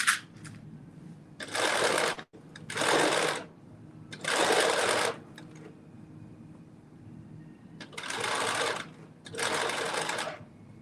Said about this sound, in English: Just stitching from 1 dot to the other at 5/8 of an inch.